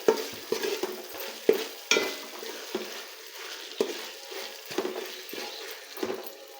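Vegetables frying in a hot pan, with a spatula scraping and stirring in irregular strokes over a steady close sizzle; no voices.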